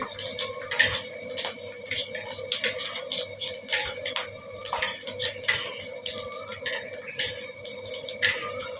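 Pork skin crackles and pops as it fries, giving dense irregular snaps over a low sizzle, with some clinks of utensils nearby.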